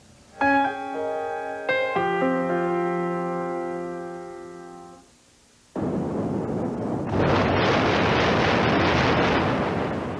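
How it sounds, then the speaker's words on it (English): Three Rivers Stadium collapses in a controlled demolition implosion: after a stretch of sustained, harmonic tones, a loud broadband roar of blasts and crumbling concrete and steel bursts in and swells, continuing to the end. "So did you ever wonder how you go about imploding a stadium?"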